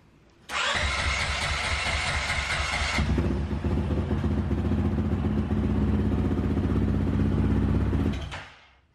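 A rebuilt 450L motorcycle engine cranks and catches at about half a second, revs briefly, then settles into a loud, steady clattering idle before being shut off near the end.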